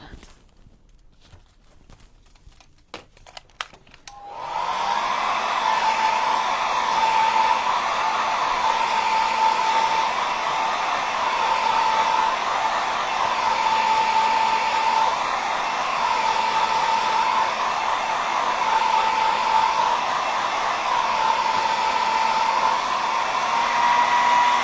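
After a few light clicks, a hair dryer switches on and blows steadily to dry paint on a peony painting, a loud, even whirring drone that runs without a break to the end.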